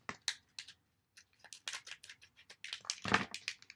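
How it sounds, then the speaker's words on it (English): Scissors cutting open plastic jewelry packaging, a string of crisp snips and crinkling scratches that grow denser toward the end, close and quiet with no talk. "I'm just going to end up having to cut it open here"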